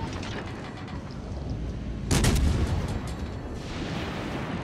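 Naval gunfire from World of Warships, a deep, rumbling broadside boom that bursts out partway through over a constant low engine and sea roar, then fades back into the steady battle din.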